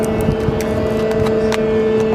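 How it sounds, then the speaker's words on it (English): Steady, loud whine of an airliner's auxiliary power unit running on the airport ramp, with a constant tonal hum. The APU is having trouble starting. "It's having issues with its APU, and eventually will start. And once it starts, this annoying sound will go away."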